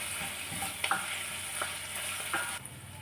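Ingredients fry in hot oil with spluttering mustard seeds while a buttermilk moru curry is being made. Close, steady sizzle with sharp pops and crackles scattered throughout.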